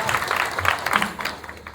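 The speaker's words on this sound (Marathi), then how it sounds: "त्यांच्यासाठी पण जोरदार टाळ्या वाजवा" Audience applause at a pakhawaj drumming performance event, a moderate wash of clapping with some voices mixed in, steady and fairly close.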